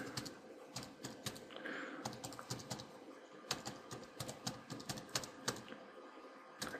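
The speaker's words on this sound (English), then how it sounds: "And I'll just type in something" Someone types a domain name on a computer keyboard, a steady close stream of crisp key clicks with a few heavier strokes and short gaps.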